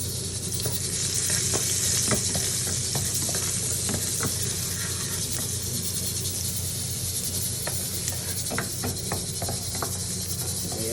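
Garlic sizzles steadily in hot oil in a pan for ginisang mongo, a dense, continuous frying hiss broken by scattered clicks of stirring.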